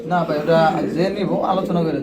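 Mondi pigeons in a pigeon farm give soft throaty coos, mixed with close talking voices.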